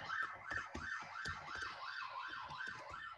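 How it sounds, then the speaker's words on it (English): Emergency vehicle sirens sound outside a city conference room: a quiet, muffled wail rising and falling in a steady repeating cycle, distant and continuous throughout. "Sorry about the sirens."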